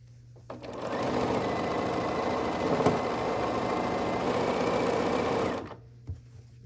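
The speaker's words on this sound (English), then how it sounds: "So we'll just sew these units together here." A sewing machine runs steadily for about five seconds, stitching pieced black-and-colour pinwheel quilt block units together, a continuous close motor whir with faint needle chatter that starts and stops abruptly in a quiet room.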